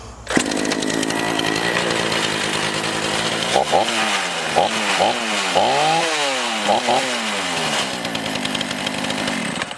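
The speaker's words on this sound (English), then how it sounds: "First, I'll fire it up for you guys, show that it does run." A Remington Outlaw 46cc chainsaw sputters to life and runs with a loud, rough idle, revving up and down several times in the middle before settling back.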